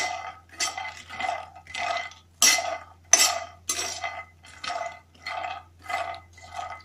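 Dry ingredients, dry fruits and nuts, roasted in a pan and stirred, with a rhythmic series of about ten scraping, rattling strokes close to the microphone and no talk.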